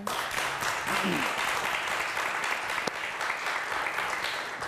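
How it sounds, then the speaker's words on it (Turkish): A studio audience on the TV quiz show Kelime Oyunu claps steadily and loudly throughout, a dense continuous applause with no pauses. "E o zaman bir alkış daha alalım"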